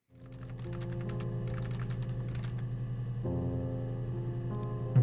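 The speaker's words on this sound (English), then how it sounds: "when you type something, you can hear the little keyboard sounds" Soft keyboard typing sounds from the video game Her Story, steady clicking keystrokes over a constant droning music bed, no talking.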